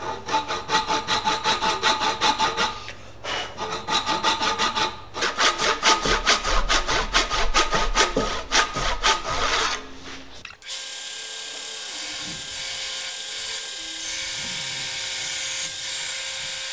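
A hand saw cuts through wood for an axe handle in quick, rhythmic back-and-forth strokes, loud and close, before the sawing stops and a steady hiss remains.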